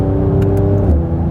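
Exhaust of a Mercedes C43 AMG driven in sports mode during a gear shift, a loud, close engine note that holds steady and then dips briefly as the shift happens.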